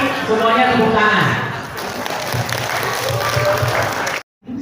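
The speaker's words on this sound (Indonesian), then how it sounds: "Nanti semuanya tepuk tangan" During a community health cadre event in Banten, a voice talks at first over a swelling crowd of clapping, which carries on as a thick wash before cutting off abruptly near the end.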